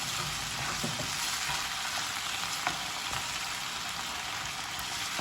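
Pounded chili and shrimp-paste mixture going into squid stir-frying in a pan gives a continuous, close, dense sizzle with light stirring scrapes and no voices.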